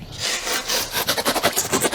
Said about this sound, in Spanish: Tenemos esto y para cortar tenemos esta sierra. Son de esas sierras de mano.